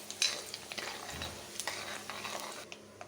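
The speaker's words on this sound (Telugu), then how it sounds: "నూనె బాగా వేడాక తాలింపు గింజలు వేసుకోవాలి" Cumin, tempering seeds and dried red chilies crackle and sizzle in a pan of hot oil for a gongura chutney tempering, a close, steady frying hiss broken by small sharp pops.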